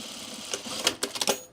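Sewing machine stitching cargo pants with topstitching thread, giving short, close bursts of mechanical clatter after a quiet start, fading out at the end.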